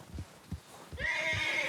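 A hitched horse outdoors gives a loud, close, drawn-out whinny after a few dull hoof thuds, with no talking over it.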